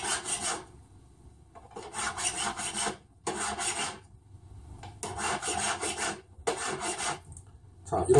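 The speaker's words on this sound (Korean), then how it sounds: "바깥쪽도 아주 곱게 전체적으로 돌아가면서 이렇게 줄 작업을" Hand file rasping around the outside of a flat metal ring in jewellery making, in several bursts of quick back-and-forth strokes separated by short pauses, close and without talk.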